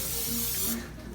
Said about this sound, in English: Just gonna spray that down there.